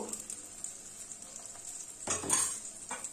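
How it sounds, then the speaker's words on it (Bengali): Cabbage curry with turmeric and chili powder sizzles steadily in a pan, then a spoon stirs through it with a short burst of scraping and rustling about two-thirds of the way in, fading back to a quieter fry. "দিয়ে এটাকে একটু ভালো করে নাড়িয়ে নিই"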